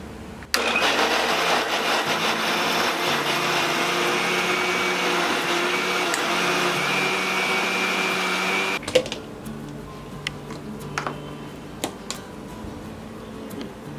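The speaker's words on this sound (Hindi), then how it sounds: "ये कुक टमाटोज को हम अब मिक्सर में इसे ग्राइंड करेंगे।" A kitchen mixer grinder blends cooked tomatoes into puree, a steady loud motor whir running for about eight seconds after a sharp start, then cutting off to quieter handling clatter.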